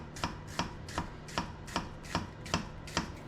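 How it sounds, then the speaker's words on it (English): A knife cuts a white onion into thin slices on a board, eight evenly spaced crisp chops in a steady rhythm, close and fairly quiet, with no talking. "I take the core out of a white onion and I cut it into thin slices"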